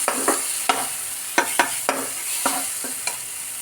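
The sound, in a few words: spices being stir-fried and sizzling in a pan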